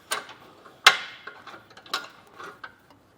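Ratcheting clicks from a RockyMounts AfterParty Swing Away 2 hitch bike rack as its wheel mount is tightened down with the blue handle, a series of sharp close mechanical ticks with one louder snap early on.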